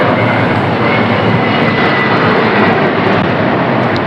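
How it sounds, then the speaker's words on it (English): Aircraft engines roar overhead on Rua Graúna, a residential street in São Paulo's Moema neighborhood, as a steady, loud broadband drone that fills the whole stretch without pause. "Lots of airplanes."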